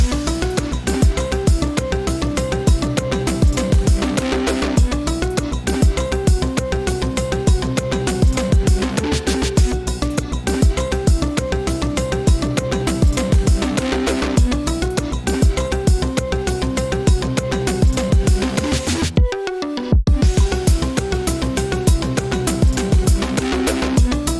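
A loud electronic track plays with a steady, punchy drum beat under dense synth layers, briefly cutting out for a moment before the full mix returns.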